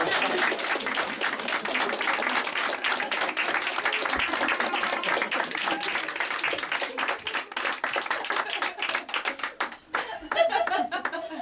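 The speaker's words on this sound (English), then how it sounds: "Clap your hands, clap your hands." Steady applause fills a stage play about a prince in a funny hat, many hands clapping together with light laughter mixed in, thinning out near the end as a few voices come through.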